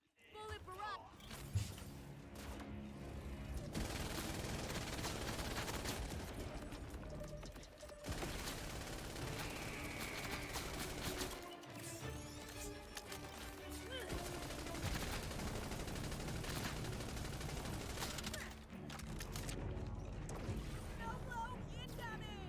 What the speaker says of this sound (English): Bullet barrage!